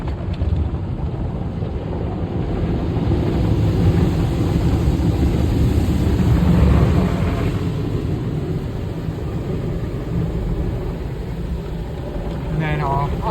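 Automatic car wash in Franklin Park, PA, with a high pressure rinse blasting water over a car, making a loud, continuous, windy rushing hiss heard close from inside the wet vehicle.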